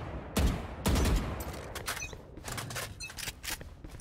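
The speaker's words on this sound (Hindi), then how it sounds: "कट्टा चला के देखती हूँ" A country-made pistol (katta) firing in a video game: two loud, sharp close shots, then a run of quicker, lighter bursts and clatter.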